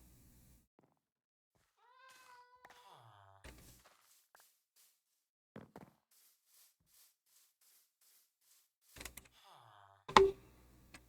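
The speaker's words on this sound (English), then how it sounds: "Cats." Cats in a village-building video game give a few short, spaced meows, with soft knocks and thumps between them in a mostly quiet scene.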